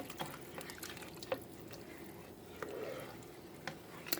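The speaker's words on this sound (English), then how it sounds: "Now we're going to give it a stir and get that all incorporated together." Seasoning powder being stirred into a slow cooker pot of scalloped potatoes and smoked sausage, giving soft, faint wet squishes and light scraping clicks at an irregular pace.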